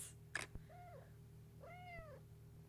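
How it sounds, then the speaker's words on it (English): A pet cat meows twice nearby, two short rising-and-falling calls about a second apart, faint over a steady background hum with a few light clicks. "Sorry, my cat's really loud."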